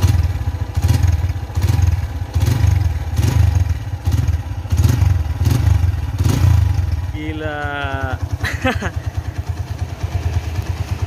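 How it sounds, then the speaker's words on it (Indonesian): A red first-generation 2008 Honda Tiger motorcycle with its original exhaust runs at idle, giving a steady, throbbing thump of regular pulses close to the pipe. Someone talks over the engine partway through. "Ini belum aku review di knalpotnya aja sudah kelihatan banget ya jeringnya."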